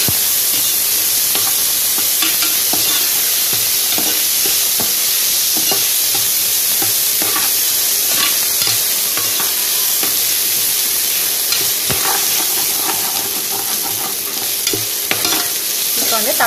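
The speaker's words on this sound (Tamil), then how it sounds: "வெங்காயம் வதங்கிடுச்சு, இப்போ வந்து இஞ்சி பூண்டு பேஸ்ட் சேர்த்துடலாம். இதை நல்லா மிக்ஸ் பண்ணிவிடுங்க." Onions already sautéed with ginger garlic paste being stirred in a pan for a traditional Tamil mutton kuzhambu, with a steady loud sizzle and frying hiss throughout and scraping stirs repeating over it.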